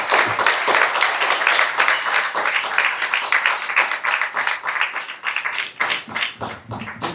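Applause from an audience at a Kenyan diaspora tourism event, welcoming an official: steady, fairly loud clapping with some sharp individual claps standing out, continuing throughout with a few scattered voices.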